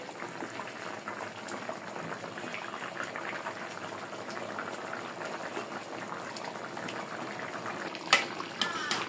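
Rohu fish goes into a simmering tomato and ridge gourd curry: a steady close bubbling fills the pot, then a couple of sharper splashes come near the end.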